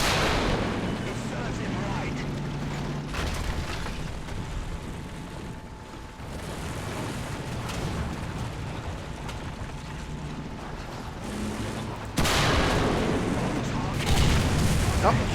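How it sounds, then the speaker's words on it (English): An E100 heavy tank fires its main gun in War Thunder, heavy booming cannon blasts over a rumbling battlefield din, with a sharp loud shot near the end and a voice talking over it. "Oh, he killed himself by firing his main gun."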